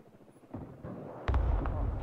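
Grad rocket artillery firing in the Broken Arrow video game, a rumbling launch that swells into a heavy, sustained roar of rockets, loud and close with no talk.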